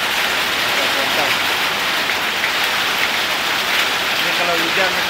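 Heavy rain falling steadily during a trip toward Kuantan, a dense, unbroken hiss of drops on surfaces that stays loud and even throughout.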